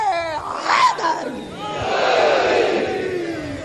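Large religious gathering in Multan, a crowd roaring a chanted slogan in unison as a loud call-and-response, many voices rising and swelling together over a few seconds.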